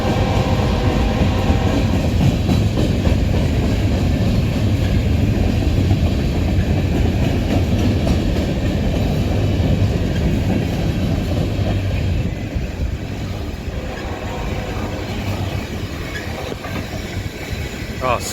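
A freight train hauling lumber and scrap cars rolls past on the Northeast Railway, a loud steady rumble with clickety-clack wheels that holds throughout and eases slightly near the end.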